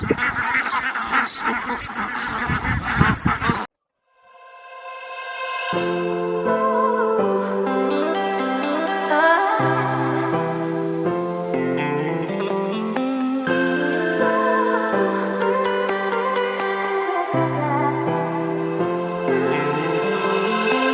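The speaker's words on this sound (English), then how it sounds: "All our little baby ducks," Young ducks on a homestead call in a loud, close run of honking quacks with shifting pitch, following a short burst of noise and a brief silence at the start.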